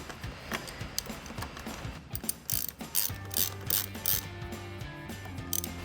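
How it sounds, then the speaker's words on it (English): Ratchet snugging a T30 bolt on the side of a K&N Series 69 Typhoon cold air intake on a 2016-2023 Camaro, producing a run of quick, close mechanical clicks in short bursts with no talking. "I'm going to snug that up with our ratchet."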